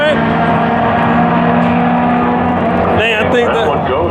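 Drag race cars, a Ram and a Charger, roar down the strip at Raceway Park in Englishtown, NJ, with loud continuous engine noise and revving that surges toward the end, while spectators talk over it.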